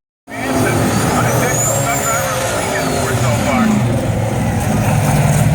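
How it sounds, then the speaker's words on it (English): Drag racing cars at an NMRA meet roll through the water box after their burnouts, a loud, steady engine roar that holds throughout with a whining tone on top. "They pull up in through the water box right now, completing their burnouts"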